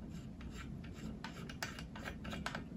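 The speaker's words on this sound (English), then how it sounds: "Start by unscrewing the valve cap here." A trumpet valve cap being unscrewed makes faint, quiet scraping and rubbing sounds. Soft short rasps repeat against a steady low background hiss.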